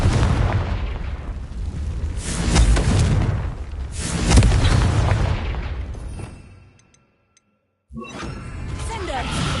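Confringo spell blasts in the Hogwarts Legacy video game: a run of loud, rumbling booms and bursts for several seconds, a brief near-silent gap, then another blast rushing back in.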